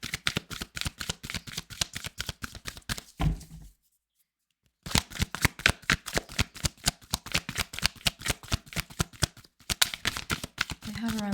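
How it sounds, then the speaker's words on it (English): Tarot cards are riffled and shuffled in a fast, steady run of crisp flutters, close and fairly loud, with a brief silent pause partway through before the shuffling resumes. "I'm just gonna pull a couple cards on the soulmate there"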